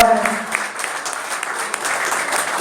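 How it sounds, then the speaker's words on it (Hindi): Applause at a religious assembly in Gaya as a guest is honoured with a title: dense, steady clapping from a crowd throughout, fairly loud and sustained without a break. "तालियां करेंगे।"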